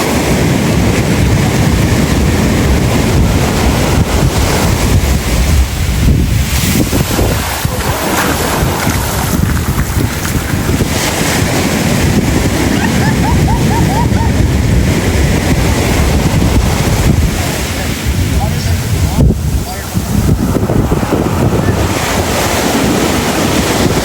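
Ocean waves on Los Muertos Beach in Puerto Vallarta, Mexico, a loud, continuous roar of surf washing ashore, heavy wind buffeting the microphone throughout.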